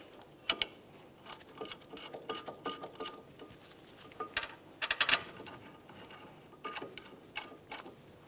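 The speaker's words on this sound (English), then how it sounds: "Start in both of those mounting bolts and snug them up." Ratchet snugging brake caliper mounting bolts during front wheel bearing and hub replacement on a 2010-2013 Ford Transit Connect, faint quick clicking bursts in short irregular runs, close up and quiet.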